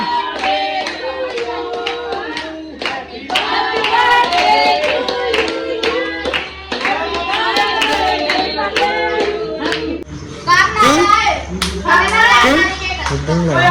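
Children and family clap along while singing Happy Birthday at a home birthday celebration, sharp rhythmic hand claps close by mixed with lively kids' voices and singing throughout.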